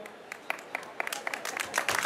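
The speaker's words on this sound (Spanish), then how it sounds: "un aplauso para ustedes" Scattered applause from the audience at a live folk music show, a few hands clapping unevenly and building slightly, with faint voices underneath.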